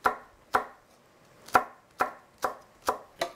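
Knife slicing red chili peppers diagonally into large pieces on a cutting board, seven sharp, close chops in a fairly even rhythm with brief quiet gaps.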